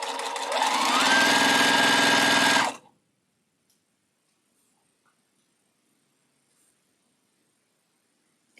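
A straight stitch sewing machine runs fast and loud for about three seconds, a dense mechanical whir with rapid needle chatter, then cuts to silence.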